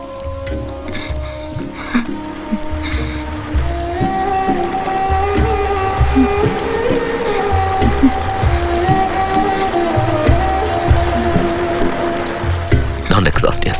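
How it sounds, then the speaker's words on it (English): Steady rain falls during a dramatic film scene, a constant patter under tonal music and occasional voices, holding an even level throughout. "Yes, it's raining."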